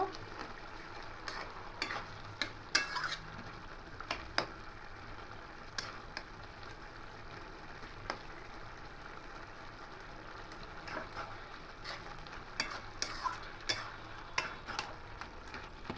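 Potatoes for a banana-flower curry get stirred and mashed in a pan, a faint sizzle broken by irregular scraping and tapping of the spatula against the pan, with no talking.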